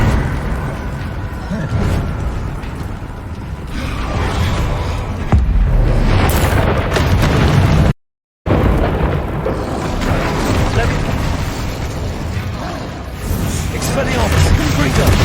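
Heavy, repeated blasts from the Bombarda spell boom through a Hogwarts Legacy fight, mixed with other spell impacts and shouted spell names that run over the top.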